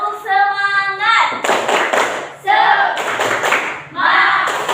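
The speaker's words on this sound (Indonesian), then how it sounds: "Sekali lagi, tepuk semangat." A group of people in an Indonesian class session performs the rhythmic 'tepuk semangat' spirit clap, a patterned run of hand claps and thumps in unison, close and loud, with voices chanting in between.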